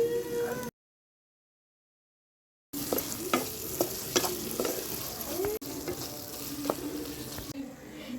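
Curry leaves sizzling in a hot pan, a moderate crackling fry with occasional stirring clicks, close by, broken by a short stretch of silence.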